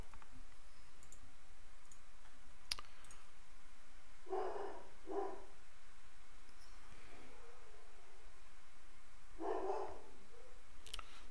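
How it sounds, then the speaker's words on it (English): Several dog barks sound from another room, a pair of quick woofs followed later by a single bark, muffled and moderately faint beneath a constant hiss of background noise. "Let's see what my dog's barking about."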